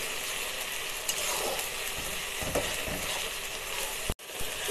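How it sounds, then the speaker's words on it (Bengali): Spice masala for a mutton curry being stirred and fried in a pan, a steady soft sizzle with scraping strokes of a spoon, and a brief clatter near the end, with no voices. "এবার এটাকে ভালো করে নেড়ে নেড়ে কষিয়ে নিতে হবে।"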